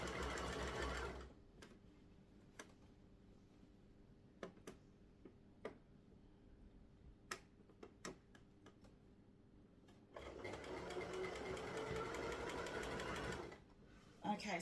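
A sewing machine runs steadily as it stitches fabric for a scrunchie, loud broadband whirring at the start and again near the end, with a quieter stretch in between broken by sharp clicks and taps.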